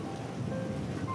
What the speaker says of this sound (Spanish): Era una noche tormentosa.